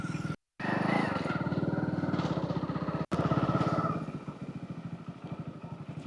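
A motorcycle revs up nearby with a throbbing, rattling engine, then pulls away so its putter fades and thins, with a couple of abrupt dropouts in the sound.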